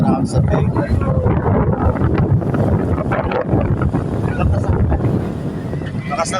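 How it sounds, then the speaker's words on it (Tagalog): Strong wind near Big Lagoon buffets the microphone in a steady roar, with talking over the top and a broad rushing noise throughout. "Lakas ng hangin ah."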